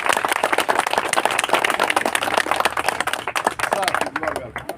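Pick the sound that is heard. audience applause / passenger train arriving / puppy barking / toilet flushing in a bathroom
audience applause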